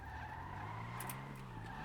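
A fully upgraded car appears in the GTA V video game and skids, a continuous engine drone with a steady tire squeal, one sustained game sound effect with no talking.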